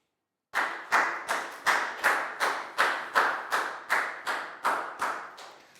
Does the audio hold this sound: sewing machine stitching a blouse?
no